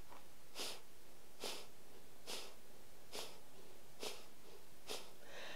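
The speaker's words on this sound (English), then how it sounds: "So just keep going for a couple of more breaths." Slow, steady pranayama breathing, six evenly spaced breaths about every 0.9 seconds, each a brief airy rush through the nose heard close and quiet, with nothing else sounding.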